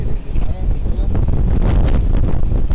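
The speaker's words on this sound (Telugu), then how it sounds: "అలలు చూడండి గాలి ప్రభావం ఎక్కువ అవడం వల్ల ఆ బోర్డు దగ్గర సముద్ర వాతావరణం అతలకుతలంగా ఉంటుంది" Strong cyclone wind on the Tamil Nadu coast buffets the microphone in a continuous low roar, with a faint wash of rough surf behind it.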